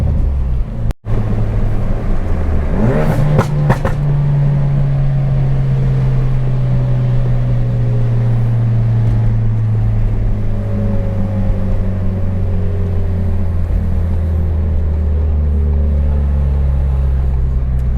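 A 2017 Ford Focus RS on an E40 auxiliary fuel tune accelerates hard up an on-ramp, its engine note rising steadily and loud inside the cabin, with a thump near the start and no talk.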